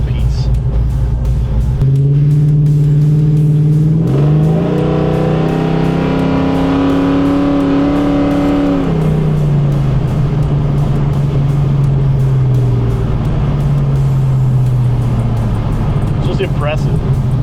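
A deep, throaty 1968 Chevy Camaro engine growl rises and falls through revs, loud and close, with a voice talking over it.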